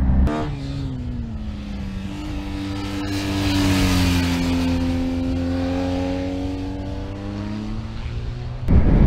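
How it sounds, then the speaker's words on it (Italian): A BMW R 1250 GS HP motorcycle with ShiftCam boxer engine accelerates on the road, its exhaust note climbing steadily through the revs and then dropping, close and loud over wind noise, with no talk. "Vediamo adesso, appena è possibile, un allungo, così vi faccio sentire anche lo shift cam BMW."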